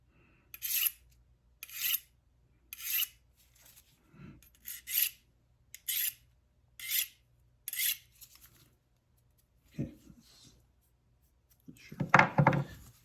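Seven rhythmic rasping strokes of a knife blade drawn across a sharpener, evenly spaced and close, followed by a few softer scrapes and a brief clatter at the end, before cutting into a beef roast for jerky.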